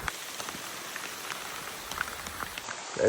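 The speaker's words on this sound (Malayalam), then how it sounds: "മഴ എന്തായാലും നിന്നിട്ടില്ല." Rain falling on an early-morning hill trek to Koonichi Hill, a soft close patter of drops with scattered louder taps, quiet and steady with no voices.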